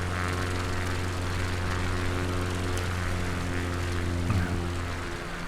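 Propeller airplane engine at 49% throttle in a Microsoft Flight Simulator 2020 bush trip over Patagonia, a steady loud drone with a low hum that holds even and unbroken throughout, with no talk.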